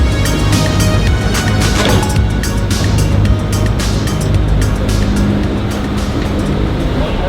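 A short ferry crossing of Victoria Harbour in Hong Kong, with a loud, constant engine and water rumble and wind-like wash that stays steady from start to finish.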